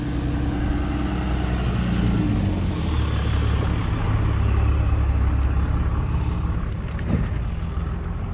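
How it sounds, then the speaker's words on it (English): Heavy trucks passing on a road, a continuous loud low rumble of engines and tire noise that swells and holds close by throughout. "Let me wait till these trucks pass so I can talk."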